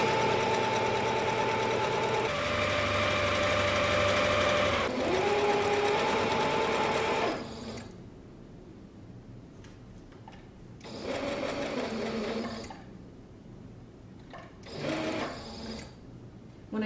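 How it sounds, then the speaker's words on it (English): Sewing machine running steadily as it stitches a pillow cover made from a tablecloth, humming with shifting motor pitch for several seconds, then stopping, with short bursts of stitching as the fabric is pivoted. "Now all I have to do is sew everything together."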